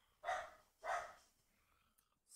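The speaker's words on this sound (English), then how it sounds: "This dog is so loud." A dog barks loudly twice in quick succession close by, followed by a fainter trailing yelp, with no talking.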